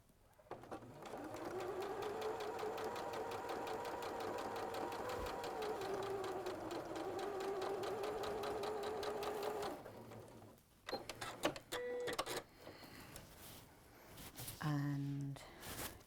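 A sewing machine stitches along a pinned sewing line in a steady, fast mechanical whir for about nine seconds, then stops, followed by scattered clicks and handling noises of the fabric.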